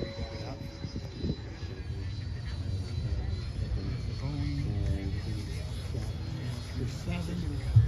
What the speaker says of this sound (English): I think you got a second T-33 going up.